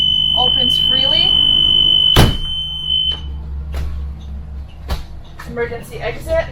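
Emergency exit buzzer on a school bus gives a steady, high electronic tone for about three seconds, close and clear, while someone talks over it and a sharp bang follows.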